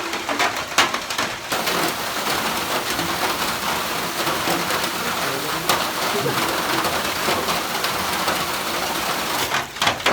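Steady, dense rain falls across a misty tea estate at Nonperial, Bakers Bend, a continuous close hiss with no breaks and only a few faint background sounds.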